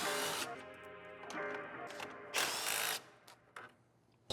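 A power tool spins out the 10mm bolts holding a car grille during an LED letter install, whirring in several bursts with short pauses and a sharp ratcheting rise near the end, close and loud.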